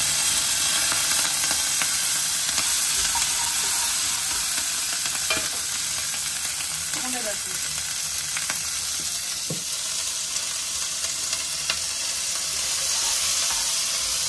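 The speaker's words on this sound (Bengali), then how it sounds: "তারপর দেব অল্প একটু তেল, এর মধ্যে ভাজবো পেঁয়াজ কলি" Onion stalks frying in a little oil in a pan make a dense, continuous close sizzle, with occasional scrapes and clicks from stirring throughout.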